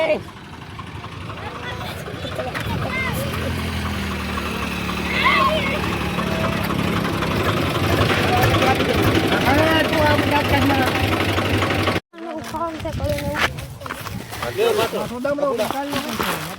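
A fully loaded tractor runs with a steady low engine drone during a Holi outing, loud and continuous under voices and festive background noise, with a brief cut before the rumble resumes.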